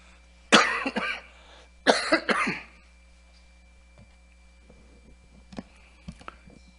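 A person coughs once, then twice more in quick succession, fairly close in a quiet room; faint small noises follow.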